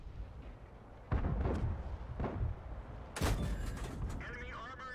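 Tank cannon shots in the video game World of Tanks sound as two heavy booming blasts with rumbling tails, the second followed by metallic ringing, against a quieter game background with brief voice sounds.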